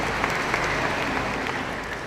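An audience claps steadily throughout at a formal government gathering in West Java, the dense applause filling the room without pause.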